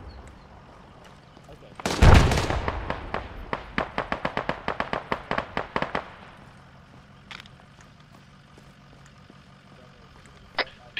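Gunfire in the military game ArmA 3. A loud blast is followed by a rapid burst of about twenty sharp shots over four seconds. Afterward it goes quiet apart from a few faint distant cracks.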